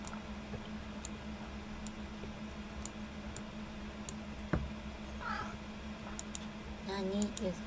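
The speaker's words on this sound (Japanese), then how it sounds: "猫の主張が激しい。" A house cat meows a few times in a quiet room, short faint cries near the end over a low steady background hum, with a brief soft knock in the middle.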